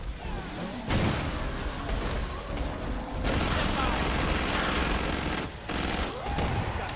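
Full-auto fire from a SWAT weapon in Killing Floor 2, long rapid bursts of loud, close gunfire broken by short pauses, with a voice talking underneath.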